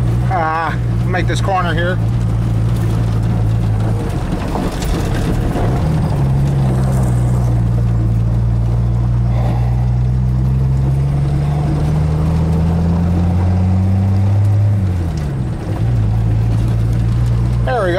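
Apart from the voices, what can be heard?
1985 Ford F-150 truck with 300 six-cylinder driving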